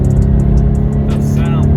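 A Toyota FRS sports car engine hums at a loud, steady low drone, rising into a brief rev near the end, with a voice speaking over it.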